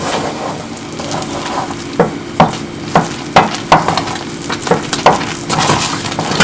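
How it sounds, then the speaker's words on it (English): Elubo yam flour being stirred in a pot to make amala: a steady rough scraping bed broken by repeated sharp knocks and thumps of the stirring stick, loud and close, with no talking. "Then I just begin to stir now."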